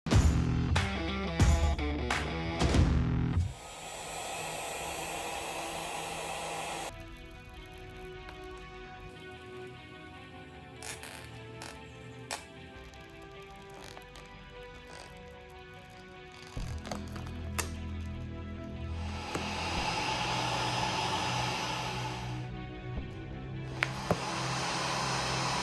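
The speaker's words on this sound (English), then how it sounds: "I'm going to use a heat gun to take off the existing tank pad." Heat gun blowing on the old tank pad of a Yamaha R7 motorcycle, a steady airy roar in two long stretches, with sharp clicks and handling clatter at the start and between the stretches.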